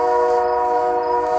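Train horn sounding close and loud from out front of a house, a sustained multi-tone blast holding steady alone throughout.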